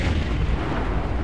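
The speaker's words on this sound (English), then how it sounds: "And that explosion pushed me into the fire." A heavy, rumbling explosion in Vampire: The Masquerade – Bloodlines roars as a dense, sustained low blast filling the whole moment, loud and continuous, with no voices.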